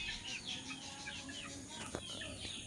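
Gamefowl roosters of Raptor Sweater and Gilmore Hatch breeds in a small outdoor range, giving faint clucks and short calls over steady background noise, with one brief sharper sound near the end.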